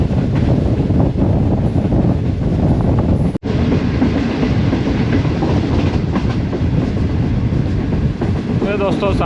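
A passenger train rolls slowly on rails as it enters a town in Pakistan, with loud continuous rumble and wind buffeting heard from outside the coach and a brief sharp dropout partway through.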